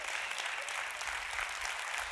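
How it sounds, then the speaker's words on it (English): Church congregation clapping during a sermon, a dense, even wash of applause from a large crowd that holds steady and loud for the whole moment, with no talking over it. "if we're going to clap, let's do it well"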